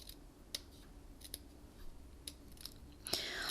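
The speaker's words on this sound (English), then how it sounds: "I'm going to take my scissors and I'm going to cut the die in half down the middle." Sharp scissor snips through stiff card, cutting a die-cut piece in half, a few separate cuts spaced irregularly over a low background hiss, ending in a longer, louder cutting stroke.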